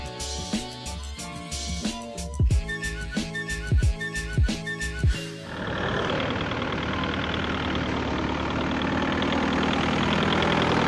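An off-road vehicle engine, likely a heavy diesel among crawlers at King of the Hammers, rumbles by over about five seconds with low knocking pulses, then gives way to a loud, steady broadband wash of engine and wind noise that persists to the end.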